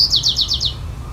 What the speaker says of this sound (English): for the white-crowned sparrow, you might say like, hey, it's a bird, it makes a song